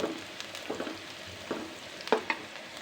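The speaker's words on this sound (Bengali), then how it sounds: "এই তো ডাল বাগার দিয়ে নিলাম, হয়ে গেছে।" Dal tempering (bagar) sizzling in hot oil, a steady soft fry broken by a few sharper crackles and stirring clinks, close and fairly quiet, with no voices.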